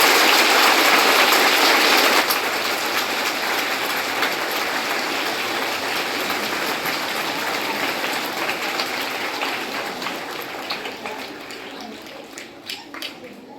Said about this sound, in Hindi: तो इसके लिए हमारे टीचरों के लिए एक बार जोर से ताली मारिएगा।